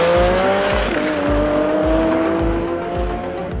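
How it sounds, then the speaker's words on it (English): Porsche 718 Cayman GT4 RS racing around the Estoril circuit with its exhaust flaps open, a loud, high engine wail climbing through gears, with sharp pulsing shifts and a trace of tire squeal. "It's opening the flaps on the exhaust and the sound it makes then is just"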